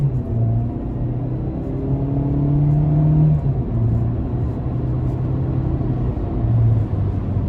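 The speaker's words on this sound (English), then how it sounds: "We're going to give it a little throttle here one more time." A 2016 Chevrolet Spark LS small hatchback with 108K miles pulls away under throttle from the driver's seat, its engine drone rising and swelling steadily over a low rumble of road noise.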